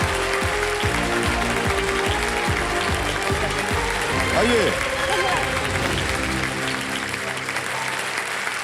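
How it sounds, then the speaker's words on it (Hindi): A studio audience applauds on a televised quiz show in India, with sustained broadband clapping running under music and a host's talk, the crowd noise staying loud throughout before easing slightly at the end. "जोरदार तालियां बज जाने के लिए।"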